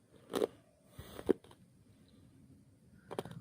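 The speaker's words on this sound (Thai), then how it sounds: "กรุบกรอบกรุบกรุบกรอบมากๆเลยค่ะ" A few sharp crunches of crisp vegetables being bitten and chewed, close and distinct, separated by quiet pauses.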